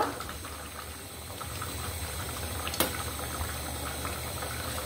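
Jackfruit seed and dried ribbonfish curry simmers on low heat, a steady close bubbling hiss with a few small pops and clinks, no talking.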